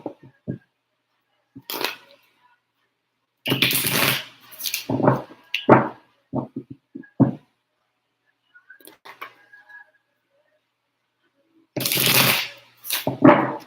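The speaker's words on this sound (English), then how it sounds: "I'm gonna shuffle them again." Tarot cards shuffled by hand in bursts of dry papery riffling and flicks, with sparse taps and pauses between, close and moderately loud.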